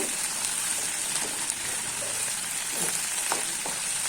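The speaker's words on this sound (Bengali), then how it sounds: "তো আমি এখানে পেঁয়াজগুলোকে নেড়ে চেড়ে দিচ্ছি।" Onions sizzle steadily in a hot wok on a gas flame while a spatula stirs them, a loud, dense, continuous hiss with faint scraping taps scattered through it.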